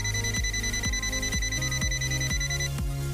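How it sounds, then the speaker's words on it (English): A multimeter's non-contact voltage detector sounds a steady high electronic tone while a low rhythmic pulsing repeats underneath about twice a second, with no talking. "NCV non-contact sensing, beeps when voltage is sensed."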